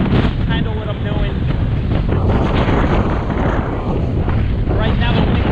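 Gusty tropical storm wind blowing in off the ocean in Bensonhurst, Brooklyn, roars and buffets the microphone in a loud, unbroken rush that swells and eases slightly throughout.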